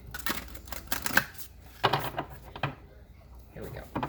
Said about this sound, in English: Alright, one more shuffle.